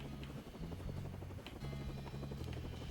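Helicopter in the video game No Straight Roads: a steady, loud rotor drone with pulsing low hum runs continuously for the whole stretch, with no talk over it.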